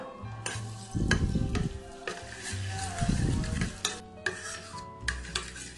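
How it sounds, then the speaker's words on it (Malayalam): Butter being stirred as it melts in a pan while making a milky cake: steady scraping and soft sizzling with occasional utensil knocks against the pan, close and moderately loud. "ബട്ടർ ചേർത്തിട്ട് നന്നായിട്ട് ഇളക്കിക്കൊണ്ടിരിക്കുക."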